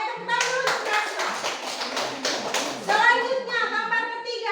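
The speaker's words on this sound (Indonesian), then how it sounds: "Iya, baik, tepuk tangan dulu untuk Gracio" Schoolchildren in a Catholic religious education class clap briefly for a classmate, a short burst of quick rhythmic claps mixed with children's voices, followed by more talking.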